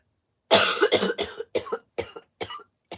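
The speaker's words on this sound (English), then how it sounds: "He set me off coughing now, look." A run of about seven sharp coughs, the first burst heavy and the later ones shorter and spaced out, close up with no talking.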